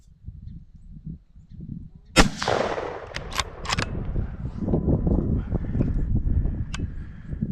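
A single loud rifle shot rings out while deer hunting for a buck in Missouri, a sharp blast followed by a rolling echo and several fainter clicks and rustles outdoors.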